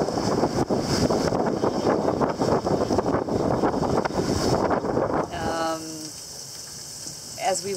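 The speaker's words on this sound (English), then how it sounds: "we realized that the wind was picking up and it was right on our nose pretty much" Strong wind roars across a sailboat heading into the sound from the East River, a loud, steady buffeting rush for about five seconds that then drops away, leaving quieter water and faint tonal sounds.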